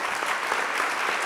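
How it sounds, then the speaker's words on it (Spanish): Steady, dense applause from a conference audience at a public-innovation panel, unbroken and fairly loud for the whole short stretch. "Yo les pido un aplauso más fuerte para los invitados"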